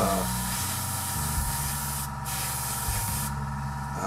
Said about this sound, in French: alors je peins d'abord la pièce